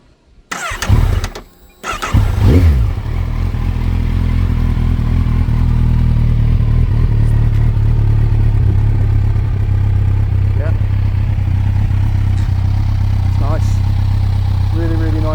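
A motorcycle engine cranks and catches after a few clattery tries, then settles into a loud, steady idle close by that runs on evenly for over ten seconds.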